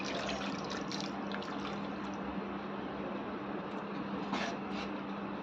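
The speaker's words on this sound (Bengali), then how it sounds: "এবার জল দিয়ে দিচ্ছি।" Water is poured into a pan of fish curry with ground mustard paste and mixed spices, a steady close splashing and trickling pour with a continuous low hiss throughout.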